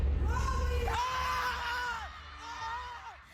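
Fans cheer and yell for Pinoy Big Brother winners at the Big Night finale. A close crowd lets out loud, drawn-out whoops and shouts that rise and fall over about three seconds, mixed with a steady roar.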